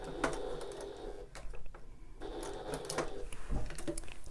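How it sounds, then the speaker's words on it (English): A sewing machine runs fabric along a straight edge, a steady close mechanical whir with rapid needle chatter that briefly drops out mid-run before resuming at full speed. "pivoted, and sew back along this straight edge"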